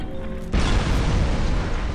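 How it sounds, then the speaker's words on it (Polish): A prison exploding in the video game F.E.A.R. 3: a sudden loud boom breaks in after a quiet half second, then a sustained heavy roaring rumble fills the rest. "To musimy się chyba sprężać, bo to więzienie zaraz wybuchnie."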